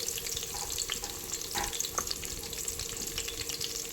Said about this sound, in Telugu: ఇవి కూడా వేసి మంచిగా గోల్డెన్ బ్రౌన్ కలర్ వచ్చేంత వరకు మంచిగా వీటినంతా వేయించుకోవాలి